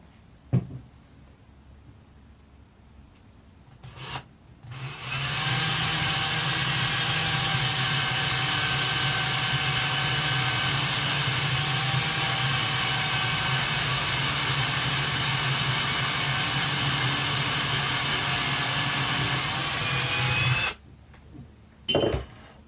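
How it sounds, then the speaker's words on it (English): After a few quiet seconds, a loud, steady high-pitched power drill whine boring a hole into a cork runs unbroken for about fifteen seconds, then stops abruptly with a brief final burst. "Let me see if I can drill another hole into this cork without breaking it"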